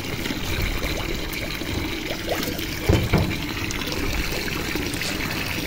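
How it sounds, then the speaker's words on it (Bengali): Cut chicken pieces being rinsed clean under water before marinating, a steady close trickle and pour with splashing and a few louder sloshes midway, no talking. "কাটা হয়ে গেছে, এখন ভালো করে ধুয়ে পরিষ্কার করে"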